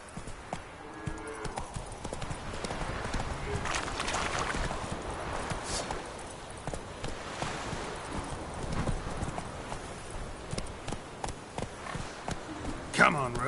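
Roach the horse gallops in The Witcher 3, steady clip-clopping hooves running close and loud through the whole stretch, with a rider's voice calling out over the hoofbeats.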